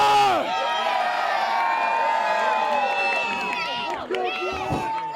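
Street crowd of wrestling fans at an outdoor Gold Rush show cheering and shouting together, a loud sustained roar of many voices with whoops, close by and swelling before fading slightly.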